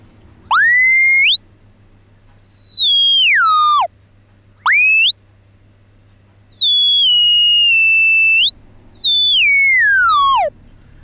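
A pure, whistling tone from a self-oscillating kNoB technology ARLPG synth filter with no input, gliding up, holding, and falling away, repeated twice with a short gap, loud and clean like a sine wave sweeping.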